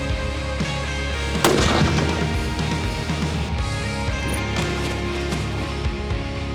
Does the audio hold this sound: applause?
no